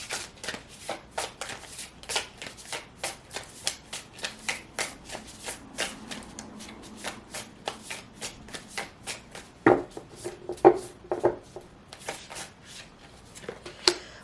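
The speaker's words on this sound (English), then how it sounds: "Let's pull some oracle cards, see what comes out from my oracle decks." A deck of oracle cards gets shuffled by hand in repeated quick riffling bursts at a steady rhythm, close and crisp, followed by a few card taps and slaps near the end, with no voice.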